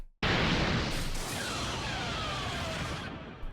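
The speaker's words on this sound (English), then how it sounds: "Look, here's the explosion." A sustained, roaring explosion blast from a Dragon Ball video game animation bursts in suddenly and rumbles loudly for about three seconds before trailing off.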